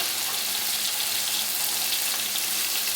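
Toast frying in butter in a pan while breakfast steak bowls are made, giving a steady, even sizzle with broadband hiss that runs unbroken and close throughout, with no talk.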